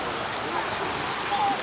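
Steady rush of river water flowing through a coffee-growing hillside, a continuous broadband wash heard close and fairly loud with no break.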